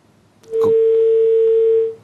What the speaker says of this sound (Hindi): कॉल ड्रॉप हो गई